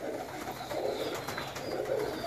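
Pigeons cooing softly in a steady outdoor murmur, with low warbling calls repeating over ambient background noise; no voices.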